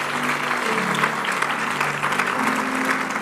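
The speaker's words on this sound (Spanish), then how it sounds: "Dale un aplauso fuerte al Señor." A church congregation applauds steadily and loudly after a prayer, dense clapping filling the room with a faint low hum beneath.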